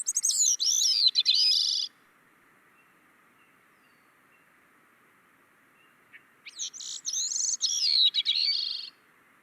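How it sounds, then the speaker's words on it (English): A thrush's song played back from a recording: two clear, warbling phrases, each about two seconds long, separated by a few seconds of quiet hiss. "It's not super pretty, but it is a thrush song."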